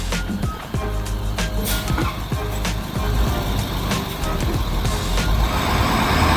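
A school bus pulling up and maneuvering into its spot, with a heavy diesel engine rumbling close by and clanks and knocks mixed into the noise.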